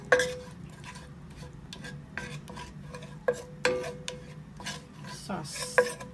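Spoon scraping and stirring flour into melted butter in a pan for a lasagna sauce, steady rasping strokes with occasional sharp clinks against the metal and faint sizzle.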